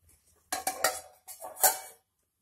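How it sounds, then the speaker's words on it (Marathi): A pot of urad dal is set down inside a pressure cooker, giving a short run of close metallic clinks and scrapes as the vessels knock together, then quiet. "या ठिकाणी कुकरमध्ये आपण हे डाळीचं भांड ठेवूया."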